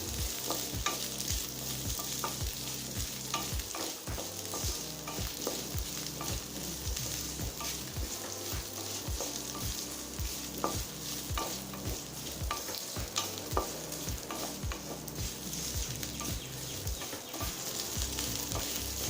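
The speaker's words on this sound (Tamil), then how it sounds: "சின்ன வெங்காயத்தை நல்லா வதக்கிக்கலாம்" About fifteen small onions sauté in a pan for curry leaves chutney, their sizzle running under rapid, rhythmic scraping and clatter of a spatula stirring continuously.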